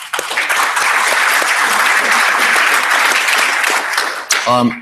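A conference audience at a DNS technical meeting gives a loud, sustained round of applause, dense clapping throughout that cuts off near the end as a voice begins speaking.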